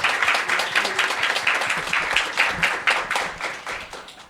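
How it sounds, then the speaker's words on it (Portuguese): An audience applauds at a university panel discussion on environmental crisis and democracy, a steady dense wash of many hands clapping throughout, fairly close and loud, with no talk over it. "Uma salva de palmas para ele."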